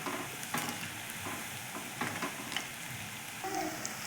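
Onion bhaji crackle gently as they fry in oil, a soft, fairly faint sizzle with a few light scraping stirs at intervals.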